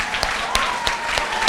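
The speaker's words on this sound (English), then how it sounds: "So let's have a round of applause for them." A room of guests at a senior high school banquet applauds: a dense, steady wash of clapping that holds at even loudness for the whole stretch, with no voices standing out.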